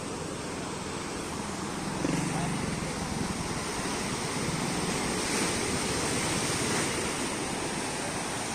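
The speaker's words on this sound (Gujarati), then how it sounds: "બહુ પાણી આવ્યું છે નદીમાં, ખુબ જ પાણી આવ્યું છે." Floodwater of the swollen Maleshri river rushes past in a loud, continuous roar, steady and close throughout with no pauses.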